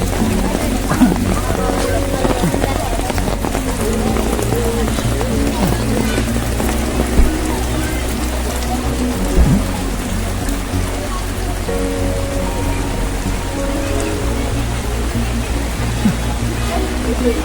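Rain pouring down at a school on admission day as people crowd onto a veranda, a steady close patter with a few louder drips, and indistinct voices faint in the background.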